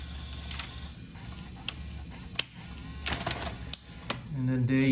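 Mechanical clicks, clunks and a rising whir from an early Orion-made Emerson VCR968 VHS transport as it ejects a tape, sharp clacks scattered over a few seconds and a motor whir building toward the end.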